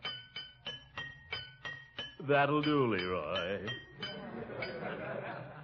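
A drinking glass is tapped to play a tune: about eight bright, ringing pings in a steady rhythm, then a voice speaks as the glass keeps ringing softly beneath.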